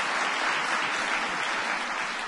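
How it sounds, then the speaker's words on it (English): An audience claps steadily at a presidential event, a dense, even wash of applause from a large crowd with no break over its short length. "Give Lamar a big round of applause."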